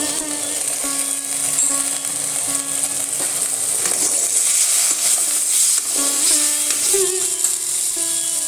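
Potatoes sizzle steadily in oil in a pan for several seconds, with faint clinks and scraping plus some background music tones.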